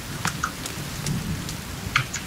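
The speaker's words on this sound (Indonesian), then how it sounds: "Hujan tuh" Rain falls steadily in the survival game The Forest, a dense hiss with scattered drips, while low thunder rumbles underneath, loud and close, without any voices.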